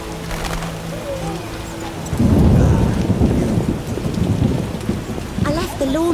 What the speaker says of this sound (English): It rains and it pours.